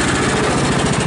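A steady, loud engine drone with a rough, throbbing rumble from a tractor mowing grass close by.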